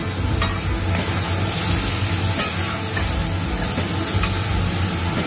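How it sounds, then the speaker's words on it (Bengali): A soaked spice paste fries in a pan for fig dumpling curry while it is stirred, a loud, continuous close sizzle with scraping stir strokes and no talking. "এটাকে একটু কষিয়ে নেবে।"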